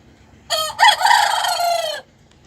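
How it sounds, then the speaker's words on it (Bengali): A native village rooster crows once loudly and close, a single long cock-a-doodle-doo of about a second and a half with a brief break early on, over quiet background. "এর মধ্যে সব দেশি মুরগি দেখছেন এগুলো কিন্তু সবই দেশি মুরগি"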